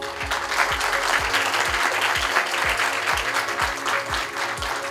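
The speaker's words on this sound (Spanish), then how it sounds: "quiero pedir un fuerte aplauso para todos ustedes y por la participación" Audience applause at the closing ceremony of a community program, a dense steady clapping from a sizable crowd that fills the whole stretch at close range.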